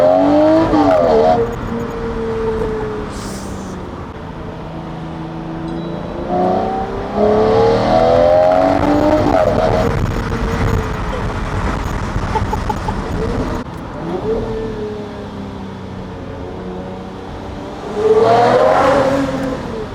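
A Lamborghini Aventador sports car engine revs loudly in several bursts, rising and falling up close, with quieter idling stretches between the throttle blips.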